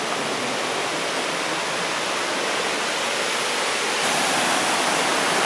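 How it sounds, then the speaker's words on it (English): The first of seven waterfalls on the Izu Peninsula pours in a constant, dense rush of falling water, loud and steady from start to finish. "We are doing the 7 waterfalls and we've reached the first one"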